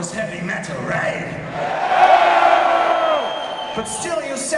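A concert crowd cheers and shouts, swelling to a loud roar in the middle before easing off, with scattered whoops.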